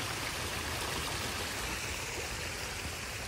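A small brook flowing through a garden beneath a little footbridge, a steady, soft, even rush of water that stays constant throughout, with no voices.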